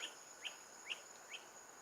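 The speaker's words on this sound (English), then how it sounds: "you could hear crickets" Four short, high bird chirps sound at even intervals over a faint, steady insect-like hum in an otherwise quiet night.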